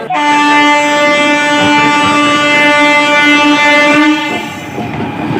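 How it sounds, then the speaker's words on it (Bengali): The Amrit Bharat Express, running from Malda Town, pulls into New Farakka Junction with a loud, steady horn-like tone held for several seconds over the rumble of the train, easing slightly toward the end. "এই হচ্ছে সেই অমৃত Bharat express train Malda town থেকে ছেড়ে নিউ ফারাক্কা জংশন ঢুকছে"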